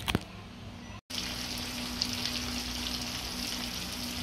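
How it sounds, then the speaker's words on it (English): Steady sizzling and crackling of chicken frying in a pan, continuous and close, with a brief dropout near the start and no talking. "So my chicken is frying right here"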